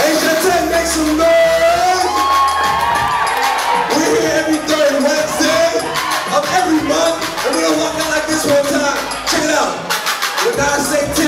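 Rowdy party crowd cheering, whooping and shouting continuously at loud volume, voices overlapping with music-like tones.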